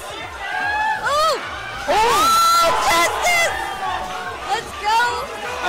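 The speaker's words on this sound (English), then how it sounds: "The whole crowd is going nuts." A crowd at an Ultimate Marvel vs. Capcom 3 fighting game tournament cheers and whoops loudly in repeated excited bursts, mixed with shouting voices and game sound effects, with energetic commentary over it.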